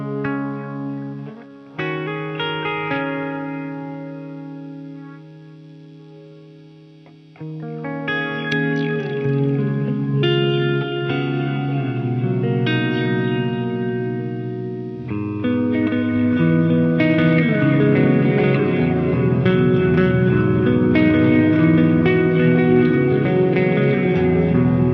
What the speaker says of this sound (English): There's the Terra Echo.